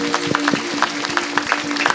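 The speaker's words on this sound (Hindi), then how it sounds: "आइए हम प्रभु को धन्यवाद करेंगे तालियां बजाते हुए जोर से" A congregation at a church service claps loudly and rhythmically in unison to thank God, steady close beats repeating through the whole moment.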